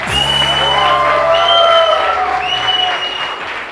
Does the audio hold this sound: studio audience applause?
yes